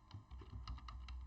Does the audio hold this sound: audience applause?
no